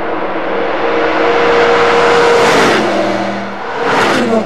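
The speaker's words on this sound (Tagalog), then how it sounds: "Halimbawa, tunog ng mga sasakyan." Road vehicles roar past at close range, a continuous loud engine drone and whoosh that swells, dips briefly and rises again as another vehicle passes.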